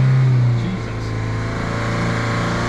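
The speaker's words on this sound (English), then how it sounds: "I don't think I've ever revved this car that high" A Ford Mondeo ST TDCi 2.0/2.2 diesel engine is held at high RPM during an injector leak-off test, making a loud, steady, droning roar that dips slightly after a half-second and then holds constant.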